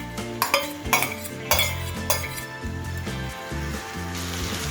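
Rice, soybean chunks and fried potato and carrot stirred together in a pot over medium flame for soy pulao, with repeated metal spoon clinks and scrapes against the pot in an irregular rhythm, close and moderately loud.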